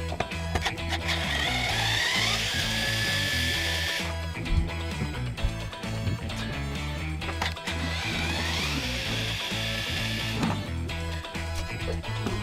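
Ratchet wrench turning an 8 mm socket to remove bolts from a KTM 1190 Adventure during airbox removal, giving repeated fast mechanical clicking bursts close by, two main stretches separated by a pause, with no talking.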